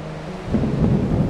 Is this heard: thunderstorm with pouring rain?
yes